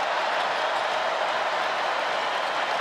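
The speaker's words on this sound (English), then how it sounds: "Crowd wants to be a factor now here at Chapel Hill" Steady roar of a basketball crowd at Chapel Hill during a Miami versus North Carolina men's college game, a dense, loud, continuous mass of cheering and applause without pauses.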